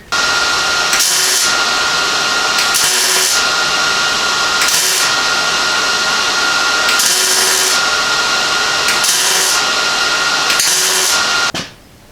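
Bursts of welding buzz repeat in a regular rhythm, each lasting about a second with short pauses between, loud and close, while steel roof tubing is tack welded on a Model A hot rod shop truck.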